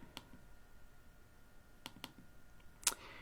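A computer mouse gives a few sharp, quiet clicks during Excel spreadsheet work, including a quick double click near the end, set against a faint, still background.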